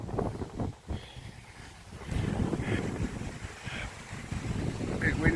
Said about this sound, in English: A bit windy out.